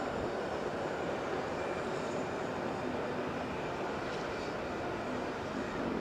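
An ANA airliner arriving from Fukuoka lands at Okinawa airport, a steady, distant broadband roar of jet engines that holds evenly throughout.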